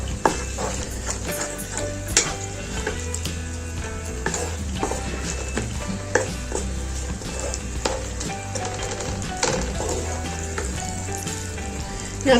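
Chicken sizzles and fries steadily in a pan over a medium flame while tenda chicken is being cooked, with occasional stirring clicks, loud and close throughout, with no talking.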